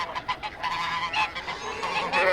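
Geese on a farm honk repeatedly in a quick, overlapping chorus, loud and close, with no talking over them.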